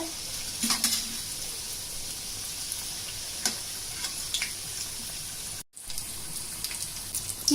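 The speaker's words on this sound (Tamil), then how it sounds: "ஆயில் நல்லா ஹீட் ஆயிடுச்சு நீங்கள் ஆயிலை மீடியம் ஃப்ளேமில் வச்சுக்கோங்க இப்போ இதை இதில் போட்டுக்கலாம்" Samosas drop into hot oil on a medium flame and sizzle steadily with bubbling crackles and occasional louder spits, close and continuous with no voices, broken by one brief silent gap.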